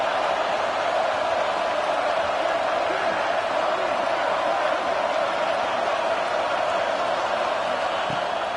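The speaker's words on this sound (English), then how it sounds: "The roar of the crowd trying to fuel this defense to keep them pinned in their own end." A college football stadium crowd during USC vs Wake Forest gives a steady, loud, unbroken roar that fills the air with no breaks for the whole stretch.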